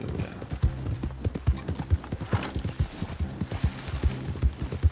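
Horse hooves gallop in the video game Red Dead Online, a steady, rhythmic clip-clop of many close, distinct hoofbeats that carries on without break.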